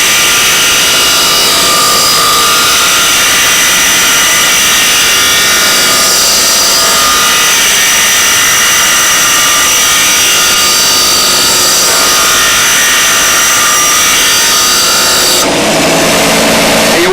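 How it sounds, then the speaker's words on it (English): A power grinder works steel wire for model aircraft landing gear legs, giving a loud, continuous high whine with steady grinding rasp that cuts off abruptly near the end. "Grind only to the point where you see the wire starting to discolor, because otherwise you detemper the wire."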